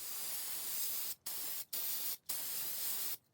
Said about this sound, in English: First, we're going to spray it with some primer